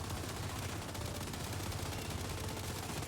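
Dense, continuous gunfire from a mobile shooter game on iPhone, a loud relentless rattle of automatic fire with no pauses.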